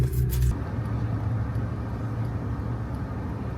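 A car rides on the bed of a tow truck, giving a steady low road rumble and engine drone throughout, with a louder burst of noise in the first half second.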